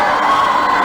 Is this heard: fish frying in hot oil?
no